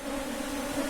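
A honeybee colony hums at its hive box, freshly drawn wax foundation inside and a honey super added: a steady, close, continuous buzz of many bees with no pauses and no voices.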